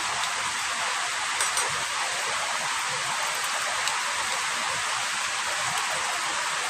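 Heavy rain pours down during a storm in Lamphun, Thailand, a dense, steady hiss that never lets up, with no voices over it.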